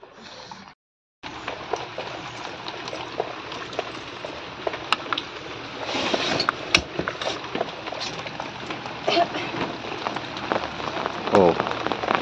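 Steady rain patters on surfaces around a village, a dense close hiss with scattered sharper drops, continuing after a brief dropout near the start, with faint voices underneath.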